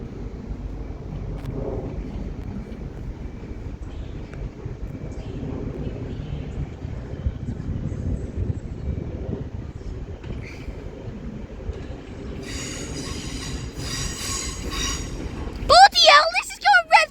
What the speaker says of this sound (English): arriving in onto platform 14 is going to be the 1513 Transpennine Express service to Liverpool Lime Street from Cleethorpes